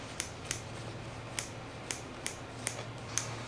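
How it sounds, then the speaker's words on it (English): Small scissors trimming embroidery thread flyaways off an appliqué design: seven crisp, separate snips at an uneven pace, close by over a low steady hum, with no talking. "I'm just gonna come in with this one and just cut all the flyaways off"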